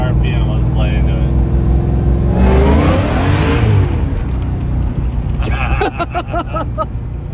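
A Fox Body car with a swapped-in GT500 engine pulls hard in third gear from about 2,500 RPM, a loud, close engine rising steadily in pitch, with a voice talking over the roar.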